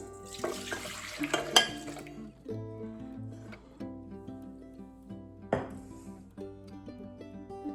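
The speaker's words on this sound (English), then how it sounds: "now we're pouring it into our bowl." Warm, eggy liquid dough mixture for cinnamon buns poured from a container into a bowl; a soft, close splashing pour fills the first two seconds, followed by lighter clinks and trickles, all over steady background music.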